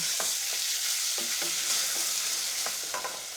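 Lamb backstrap sears in a hot pan for an Egyptian dish, giving a steady loud sizzle and hiss with scattered scraping and clinking as the meat is tossed and stirred. No voices are heard.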